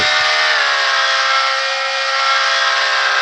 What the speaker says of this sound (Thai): โอ้โหเสียงรถ ดัง โคตรดัง